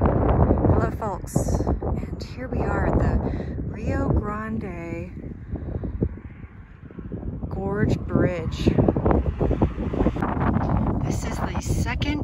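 Wind gusting outdoors in Taos, New Mexico, rumbling and buffeting the microphone in surges that swell and ease, while a person talks throughout.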